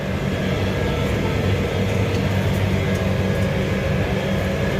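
A combine harvester cutting slews in a wheat field gives a steady loud mechanical drone and rumble heard from inside the cab, unbroken throughout.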